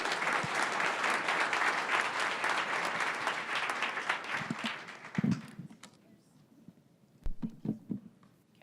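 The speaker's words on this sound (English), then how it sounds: "let's give them a round of applause" A room of attendees at a startup community meetup applauds steadily for about five seconds, then the clapping thins out to a few scattered claps and handling noises.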